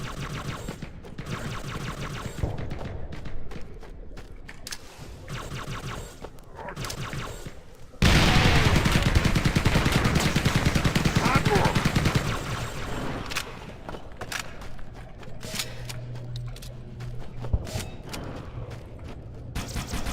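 Weapons fire in the video game Halo, starting with scattered mechanical clicks and thuds, then a sustained loud burst of rapid automatic gunfire that tapers into intermittent shots and clanks.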